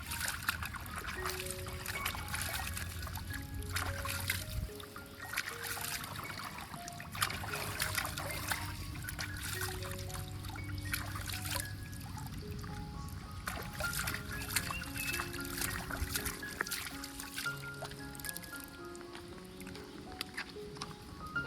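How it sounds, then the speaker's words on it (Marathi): Wild vali onions are washed by hand in water, with trickling, splashing and sloshing close by, light clattering and faint background sounds alongside, continuing steadily throughout. "फटाफट धुवून घेऊया वलीचे कांदे."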